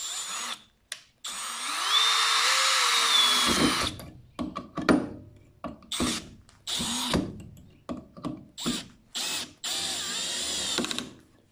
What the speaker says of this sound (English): Let's try putting in a screw. Here's a small drywall screw.